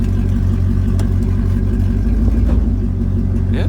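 A 1999 Dodge Durango engine idles with a loud, steady low rumble, close by, as it is shifted into gear, with a slight surge in tone midway and a faint click near the end.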